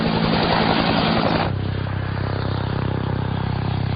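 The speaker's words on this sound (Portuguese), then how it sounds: "o som da esteira do rotor principal batendo na esteira do rotor" Loud, steady mechanical roar with a rapid rhythmic chop of helicopter rotors beating close by, the main rotor wake striking the tail rotor wake, shifting to a lower, duller drone partway through.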